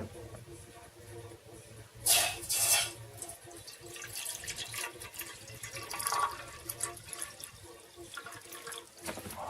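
Water poured from a kettle or pitcher into a cup for tea, a brief splashing burst near the start followed by softer trickling and light clinks, fairly close, with no talk.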